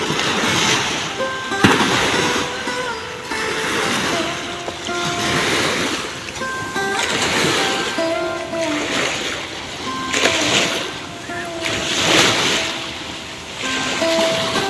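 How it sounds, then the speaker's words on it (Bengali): Sea waves churned by several large ships passing offshore at Naval Sea Beach in Chattogram, a loud continuous roar of surf with repeated surging splashes rising and falling every couple of seconds. "এই আওয়াজটি হয়ে থাকে যখন একাধিক বড় বড় জাহাজ সমুদ্রের মাঝ দিয়ে গমন করে, তখন সমুদ্রে এমন উচ্চতর আকারে আওয়াজ হয়ে থাকে।"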